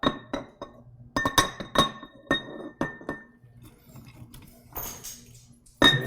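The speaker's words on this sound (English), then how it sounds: "Clank that jar" A glass cookie jar being clanked, its lid knocking against the rim in a series of bright, ringing clinks that come in bursts, close and fairly loud, with short pauses between the rattles.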